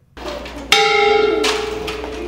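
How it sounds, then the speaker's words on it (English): A school bell rings out loudly and clearly on the last day of the school year, its bright metallic tone struck once and then ringing on, with a second strike following before the sound fades. "The school bell rings for the final time of the year as students head into summer break."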